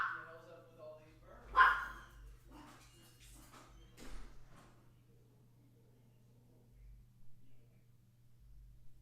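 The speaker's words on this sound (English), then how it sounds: "What are you barking at?" A dog barks several times close by in a quiet room, a few sharp separated barks, with someone speaking softly between them and a steady low electrical hum throughout.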